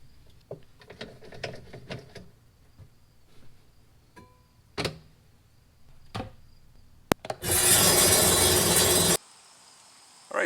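A rock saw slices Lake Superior rock: scattered light knocks and taps come first, then a loud, dense grinding roar starts, holds for about two seconds and cuts off abruptly, followed by quiet.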